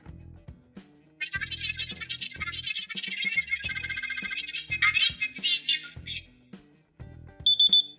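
A small electronic alarm on a Xinjia XJ-665N talking wristwatch plays a high, beeping melody in repeated bursts, with clicks and thumps of handling underneath.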